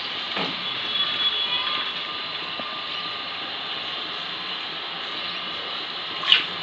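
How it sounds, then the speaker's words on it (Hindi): Drinking water from a household tap filling a bottle, a steady, fairly faint rushing flow that holds throughout with a small clatter near the end. "पीने का पानी का नल है, नल आया है आज तो पानी भरा जा रहा है"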